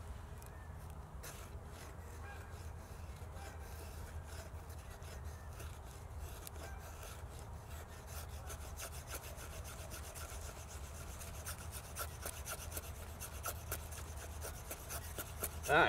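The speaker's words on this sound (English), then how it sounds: "Okay, let's make some shavings." A knife carves shavings from a damp piece of wood outdoors, making quiet, continuous rasping and scraping strokes close by.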